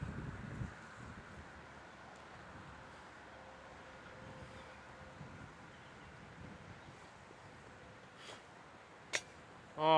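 Strong wind blows across a disc golf course, a steady broadband roar buffeting the microphone, with a few faint knocks and a short louder gust at the very end.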